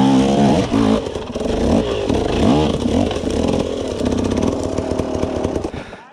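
An enduro motorcycle engine sputters, catches and revs, loud and close, with a rising and falling roar and some clattering before it settles into a steady run.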